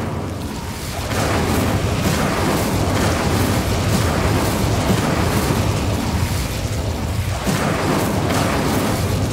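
A roaring, fiery burst of the Incendio fire spell cast in Hogwarts Legacy, a sustained loud rumbling blast that swells after a second and churns continuously with a few surging peaks, no talk over it.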